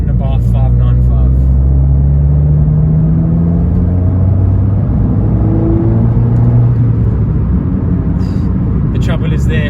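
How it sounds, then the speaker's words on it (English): An Abarth 595 accelerating through the gears, its exhaust giving a loud, steady engine drone with rising harmonic pitch over the whole stretch, heard from inside the car with faint background noise. "you will see how long it took me to get to the noisy part of the exhaust"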